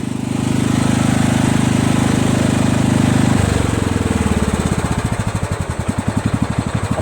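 A Kohler Command CV460S engine on a Craftsman LT1000 lawn tractor drones loudly and steadily at full throttle, then its pitch drops and it slows into a lumpy, pulsing chug as it winds down toward idle.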